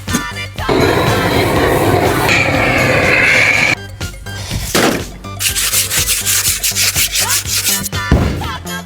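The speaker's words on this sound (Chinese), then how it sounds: "把那角磨机给我拿出来，马蹄子给它嘎下来" An angle grinder cuts horse hooves off for a Northeastern Chinese horse-skin jelly dish, a loud, close, sustained abrasive whine and grinding that breaks off partway, then returns in rougher, rhythmic bursts.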